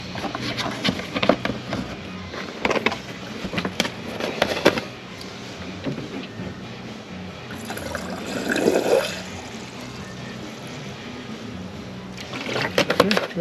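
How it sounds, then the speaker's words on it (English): Washer fluid glugs and splashes from a jug through a funnel into the reservoir of a 2025 Honda Ridgeline, a steady close pour with bursts of gurgling and a few clunks. "we'll top off the washer fluid"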